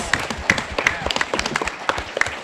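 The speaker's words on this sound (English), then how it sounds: "Let's have a round of applause for them for allowing us to hijack" Convention panel audience clapping, a lively burst of many hands with sharp rhythmic claps up close, a voice speaking briefly over it.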